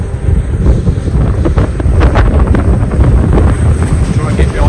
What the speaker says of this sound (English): that wind is cutting through your face and your hands.